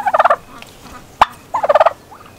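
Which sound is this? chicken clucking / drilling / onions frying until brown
chicken clucking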